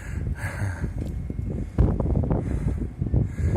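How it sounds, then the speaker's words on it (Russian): Winter wind off the Black Sea in Anapa, near a walnut-grove park, buffets the microphone in loud, gusty rumbles and roars that swell and dip throughout, with no voices. "Вон ветер как вздувает."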